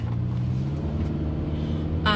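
A car rumbles steadily close by, a low continuous engine drone with a slight rise and a brief swell at the end.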